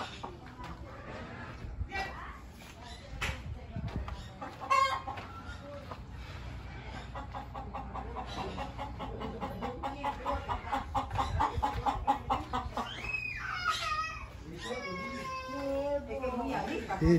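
A hen clucks and cackles in repeated bursts while people talk nearby, with other birds and animal calls mixed in.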